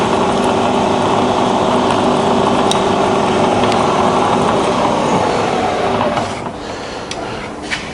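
A Bridgeport milling machine hums loudly and steadily as the quill rises on power feed, then the sound drops noticeably when the feed trips out near the end.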